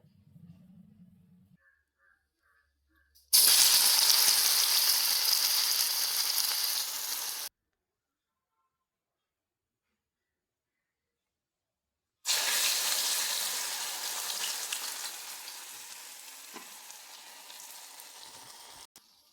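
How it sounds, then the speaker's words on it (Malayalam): Urad dal vada frying in hot oil, two loud bursts of close sizzling a few seconds apart with a gap of silence between, each fading gradually. "മാവെടുത്ത് വെച്ചിട്ടുണ്ട് പരത്തിയിട്ടുണ്ട് എണ്ണയ്ക്കകത്ത് ഇട്ട് കൊടുത്തിട്ടുണ്ട്"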